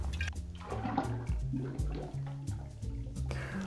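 Gin being poured into a cocktail, a short liquid glug and trickle close up with small drips and clinks, alone without talking.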